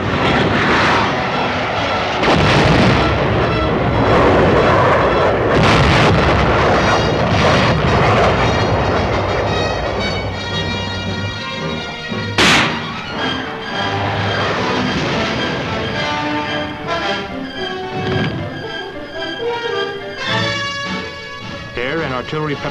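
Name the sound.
artillery and air bombardment in a military training exercise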